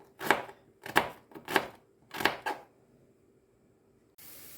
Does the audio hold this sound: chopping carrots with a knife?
yes